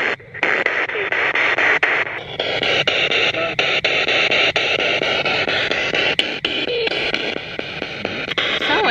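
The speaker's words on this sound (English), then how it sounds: "we're going to do a spirit box" Harsh radio static from a spirit box sweeps continuously, broken by rapid clicks and brief chopped bursts as stations flick past, loud and unbroken throughout.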